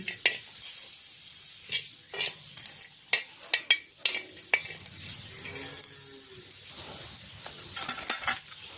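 Grated coconut roasting in oil in a pan with a spoon stirring, soft sizzling under repeated scraping and clinking strokes at close range, with no talk.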